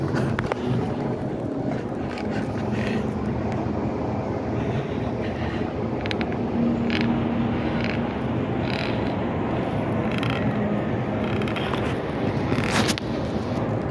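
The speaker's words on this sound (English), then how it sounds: "So here's the elevator." A Kone elevator running in a shopping mall gives a steady mechanical rumble with occasional creaks and clicks, continuous and fairly close, with no voices.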